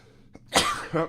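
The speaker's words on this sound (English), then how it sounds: "Gotta sneeze again." A single close sneeze: a brief intake of breath, then a sharp explosive burst trailing into a short voiced exhale.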